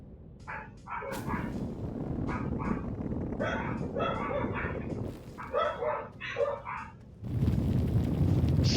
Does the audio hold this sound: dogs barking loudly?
yes